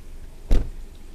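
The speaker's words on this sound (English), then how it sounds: "Let's close the door." A single solid thud as the door of a 2022 Ford Explorer swings shut, close and brief against a quiet background.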